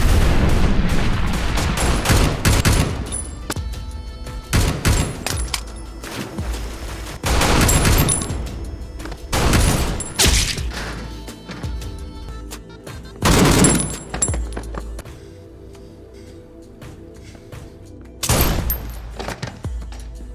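Gunfire rings out in an action film shootout as guards are taken down, with loud bursts of rapid shots and booming blasts in clusters separated by short quieter gaps.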